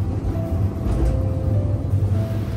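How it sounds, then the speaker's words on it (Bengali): A city tram rolls through Kraków, heard from inside as a steady low rumble of wheels and motor with a faint whine, loud and continuous without talk. "তারপর আমরা উঠলাম ট্রামে"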